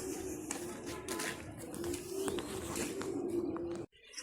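Pigeons cooing in a loft yard, a low steady hum of coos with faint chirps and light taps, moderately close and without talk, before a sudden drop near the end.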